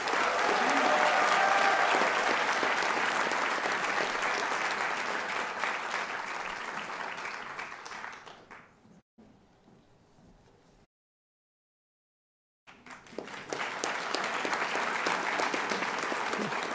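At a college graduation ceremony, an audience gives a graduate loud, sustained applause from a large hall. It fades out into near silence, then the clapping resumes strongly.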